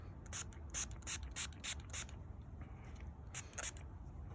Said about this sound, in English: I'm gonna put some more spray